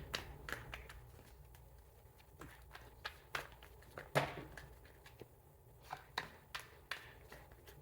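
Tarot cards are shuffled and handled close by. Soft, irregular riffling clicks and taps sound quietly, with no one speaking.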